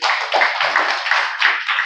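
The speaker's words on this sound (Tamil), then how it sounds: "கைத்தட்டுங்க, நல்ல செய்தி." An audience at a religious talk claps their hands, a dense, steady patter of many hands at close range, continuous and without pauses.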